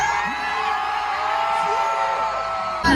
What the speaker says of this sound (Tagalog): Sa huling gabi natin, Alliance Youth, kailangan ilabas natin lahat ng ating sigaw